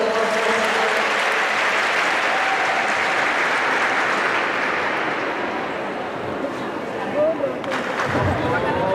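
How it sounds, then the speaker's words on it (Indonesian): A large audience at a talk claps steadily throughout, a thick, continuous wash of applause with a faint murmur of crowd voices underneath. "Tepuk tangan buat teman-teman."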